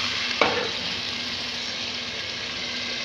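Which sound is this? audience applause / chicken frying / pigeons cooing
chicken frying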